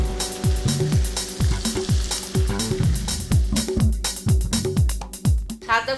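Chital fish korma cooking in a pan as milk goes in, loud close sizzling and bubbling with rhythmic spoon strokes and scraping repeating roughly twice a second.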